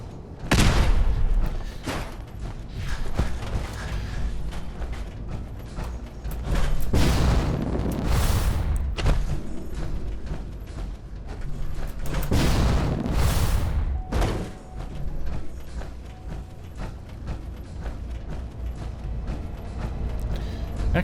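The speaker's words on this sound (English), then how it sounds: "Sure, throw a grenade my way." A grenade blast in a video game sets off loud, broad booming bursts, with several heavy explosions spaced across a continuous roar of game noise.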